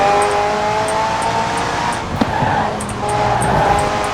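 Supercar engine in the Forza Horizon 4 racing game, a steady sustained drone at high speed with a brief sharp transient midway, continuous and fairly loud without talk.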